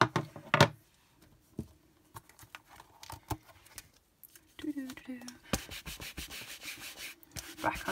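A rubber stamp inked for card-making is scrubbed on a Stampin' Scrub cleaning pad, giving close, dry rubbing and scratching strokes in uneven bursts, busiest toward the end.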